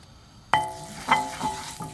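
Garlic added to a hot frying pan during quick prep of Caribbean-inspired prawns with coconut rice, giving a sudden close sizzle that hisses on with a few stirring clatters and swells.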